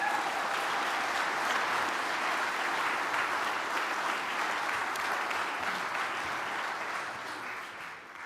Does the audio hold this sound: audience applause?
yes